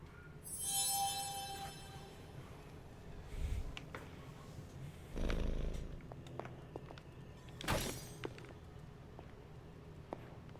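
A cat purrs while being petted in the video game Marvel's Midnight Suns, a low soft rumble running under several louder rustling bursts and brief taps, close and otherwise quiet with no talk.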